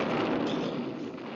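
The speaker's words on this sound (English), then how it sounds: "Boris, those things make loud booms." Cartoon cannons on an island, disguised as trees, fire loud booms that merge into a continuous dense rumble, steady and full without pauses, no talk over it.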